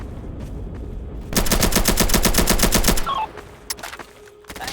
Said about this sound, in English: Just keep shooting the guys in the towers.